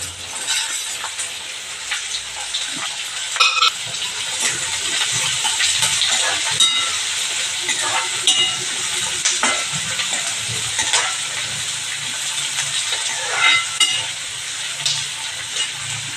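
Onion and green chili fry in a pan with a loud, steady sizzle, broken by occasional clinks and scrapes of stirring, with no voices.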